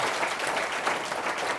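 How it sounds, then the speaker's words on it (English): A short burst of audience applause at a cancer research grants panel, a soft, even patter of clapping from a seated crowd throughout the brief moment. "A round of applause, please, for Tony and the team."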